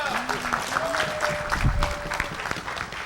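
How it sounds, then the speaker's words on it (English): A church congregation claps hands during a sermon, a crowd's sharp claps ringing out under voices that talk and call out over them. "Give me a hand clap."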